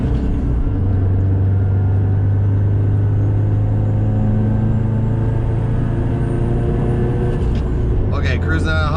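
Subaru STI with a faulty upstream O2 sensor cruising on the highway at about 100, giving a steady low engine drone and road rumble with a brief rattle near the end; speech-like sound is present though no words come through.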